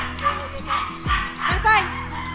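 A K9 search dog lets out two quick, sharp barks close by, with a few yips around them, while people talk in the background during handler training.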